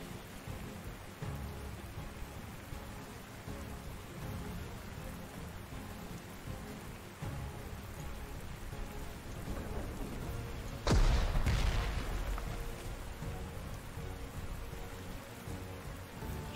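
Steady rain falls with a muffled rumble of thunder in the wartime strategy game Panzer Corps 2. About two thirds of the way through, a louder thunderclap cracks over the constant downpour.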